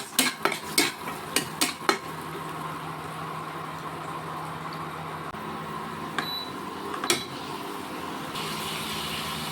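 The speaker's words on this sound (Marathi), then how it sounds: "थोडासा हिंग टाकायचा आणि चांगलं फ्राय करून घ्यायचं असं।" Red chilli powder and asafoetida fry in hot oil for a toor dal tadka. A spoon gives several quick clinks against the pan at first, then a low, continuous sizzle carries on with a few scattered taps.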